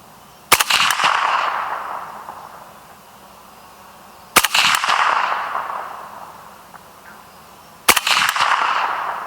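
A suppressed AK rifle fires rounds at a steel plate, three loud sharp reports spaced roughly four seconds apart, each followed by a decaying ring.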